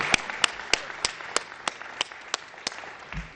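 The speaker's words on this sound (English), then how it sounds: "Another round of applause for the John F. Kennedy High School Choir" Steady, evenly spaced handclaps honor the John F. Kennedy High School Choir at a new-citizen allegiance ceremony, sharp and fairly quiet, with no voices over them.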